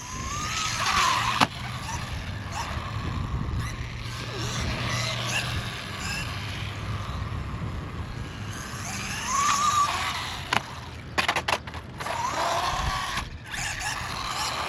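An FMS FSC18 Ford Bronco RC car with open diffs races at speed, its whining motor rising and falling as it passes near and away, with tyres scuffing and brief clattering knocks along the way.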